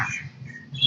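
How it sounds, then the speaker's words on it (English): A short bird call of a few high chirps rings out over low background murmur, fairly close and clear. "my grandma said that that bird says, like, Josecito, right?"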